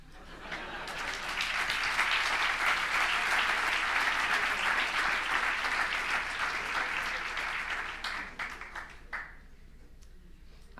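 Conference audience applauding loudly and steadily for about eight seconds, then thinning out and fading to scattered claps near the end.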